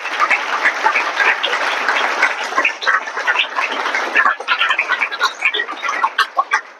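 A roomful of students claps and cheers during a classroom chemistry demonstration, dense and steady at first, then breaking into looser, more scattered claps toward the end.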